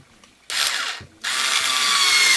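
A Harbor Freight cordless screwdriver drives a 1.5 inch screw, whirring loudly in two close bursts with a short pause between, the second burst longer and steady.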